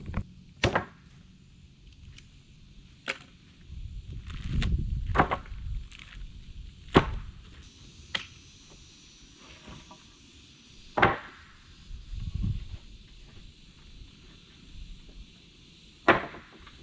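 Wooden boards are picked up and set down on a porch, giving a series of sharp knocks and clatters spaced irregularly, some louder than others, with quieter scraping and shuffling between them and no talk.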